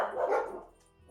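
Several dogs bark together in a short loud burst at a dinner table, the barks crowding the start and fading quickly.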